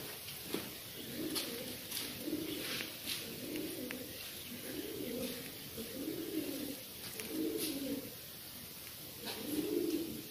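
A smoky male game pigeon coos in repeated low, rounded phrases that pulse steadily through the whole stretch, close and moderately loud over a faint background hiss.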